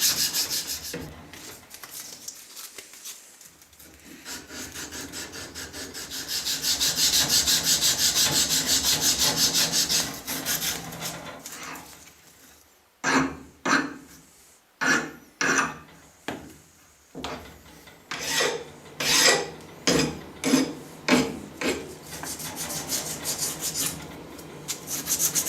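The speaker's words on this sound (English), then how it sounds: "I have 180 grit emery cloth here, and I will put it over a flat file." Metal surface being dressed with 180 grit emery cloth wrapped over a flat file: steady broad rubbing at first, then a run of rhythmic, close, loud back-and-forth strokes with short pauses between them.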